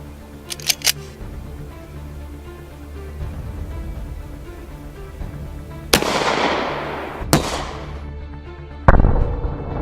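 Full metal jacket PMC 230 grain rounds fired into ballistics gel, three sharp loud cracks spaced a few seconds apart, the first two with a short ringing tail, over a low background hum.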